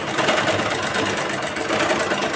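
A sewing machine stitches a blouse, its motor running in a steady, loud, close hum with a dense rapid needle rattle throughout.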